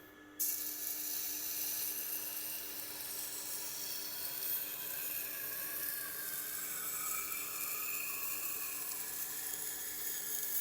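A Japanese knife is ground on a Tormek sharpening wheel, giving a continuous high whining grind that starts abruptly and holds steady with slight shifts in pitch.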